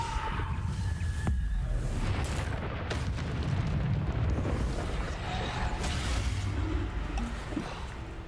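Repeated Bombarda spell blasts in Hogwarts Legacy, a dense run of booming explosions and bursts over constant rumbling game action.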